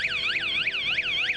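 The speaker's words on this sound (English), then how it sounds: "within 10 seconds, it'll activate the main alarm." A motorhome security alarm wails in rapid, repeating up-and-down sweeps, loud, steady and close, with no voices.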